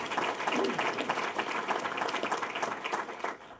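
An audience at a university trustee meeting applauds. The clapping is dense and continuous, moderately loud, and fades slightly near the end, with no speech over it.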